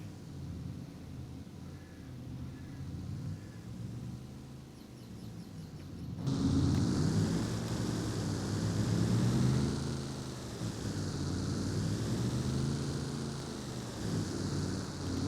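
A truck engine in Farming Simulator 22 drones steadily, a low hum that jumps louder and rougher midway and keeps rumbling to the end, with no talk.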